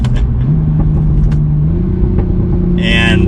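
A Toyota A90 Supra in manual sport mode drones steadily at cruising speed, its engine note climbing in pitch as downshifts are flicked through, loud and close from inside the cabin with a brief higher burst near the end.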